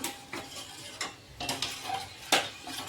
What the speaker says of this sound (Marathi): पुन्हा आपण सगळी एक जीव हलवून घेऊया मस्त तिला उकळी येऊ द्या जरा